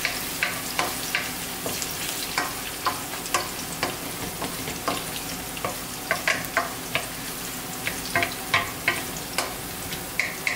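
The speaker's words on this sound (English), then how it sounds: "Just brown your onion" Onion browns in a hot pan, sizzling steadily while a utensil repeatedly scrapes and stirs in sharp, regular strokes, close and alone with no voices.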